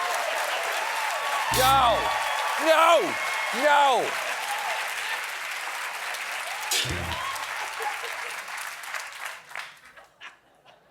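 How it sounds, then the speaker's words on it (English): Talk show studio audience applause, a steady roar of clapping that fades toward the end, with a few short spoken words and a bark-like yelp cutting through. "That is the applause of recognition"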